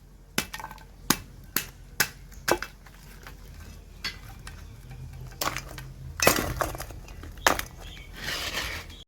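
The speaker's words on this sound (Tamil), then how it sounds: "இந்த மாதிரி எல்லா நண்டையும் கட் பண்ணி எடுத்துக்கணும்." Crabs being cut with the shells clinking, a run of sharp, close knocks and clicks in an uneven rhythm, a few at the start and more dense clatter near the end, with no talking.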